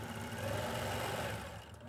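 A sewing machine stitches in the ditch on a quilt, a steady whirring mechanical hum that runs alone for about two seconds and then eases off.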